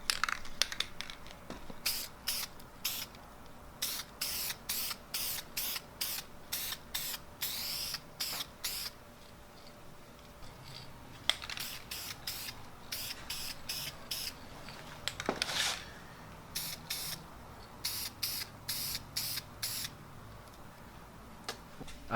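A spray paint can with a faulty nozzle sputters in rapid, uneven bursts of hiss, an irregular crackling spray that runs continuously and close by, with no voices.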